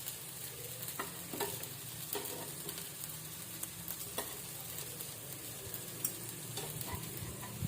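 Fresh okra (bhindi) frying slowly in a pan over low heat, a soft, steady sizzle with faint occasional stirring clicks, quiet and close.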